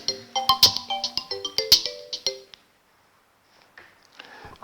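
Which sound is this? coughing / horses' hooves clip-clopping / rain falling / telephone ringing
telephone ringing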